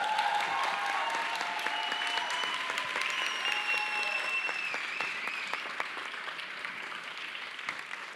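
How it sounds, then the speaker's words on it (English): Audience applause for Eric at a dance event, a dense, even wash of clapping from a large crowd, sustained and fairly loud for several seconds and tapering only slightly, with a few whistles and voices on top. "now I want the applause for Eric, please."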